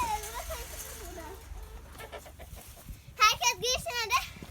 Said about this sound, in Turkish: Arkadaşlar böyle tavuk var. Yani tavuklar var.